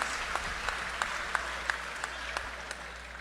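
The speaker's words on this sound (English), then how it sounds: "Let's give them a round of applause." A round of applause welcoming OWTU union members, a steady crowd clapping with a few sharper individual claps standing out at regular intervals, moderately loud and close.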